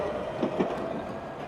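A tram rumbles past nearby with a low rolling drone and a couple of soft wheel clacks.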